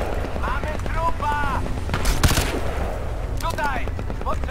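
Bursts of Crysis 2 gunfire crackle amid busy background noise, with a sharp volley near the middle and more shots toward the end, voices mixed in.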